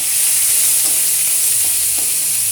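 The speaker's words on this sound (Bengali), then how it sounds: "আদা আছে বাটা, জিরে বাটা, চিংড়ি মাছ, লবণ আর হলুদ একই সাথে আমি দিয়ে দিলাম কড়াইয়ের মধ্যে।" Prawns with ginger paste, cumin paste, salt and turmeric fry in a wok, giving a loud, continuous oily sizzle with occasional soft stirring scrapes.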